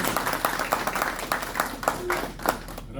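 Audience applause at a law conference in Barahona, a moderately sized crowd clapping in distinct rhythmic bursts that gradually thin out toward the end.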